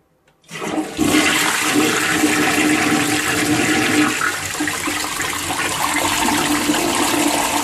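A 1997 toilet with a freshly tightened flapper flushing, a sudden loud rush of water starting after a moment of quiet and continuing as a steady close swirling gush.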